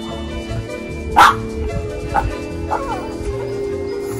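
A dog gives one sharp bark followed by a couple of softer yips, close by, over a low indoor hum.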